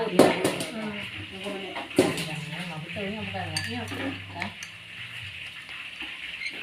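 Onions and potatoes for perkedel fry in a pan at a village communal cooking gathering. There is close sizzling, with clinks of a utensil stirring against the pan, while people talk over it.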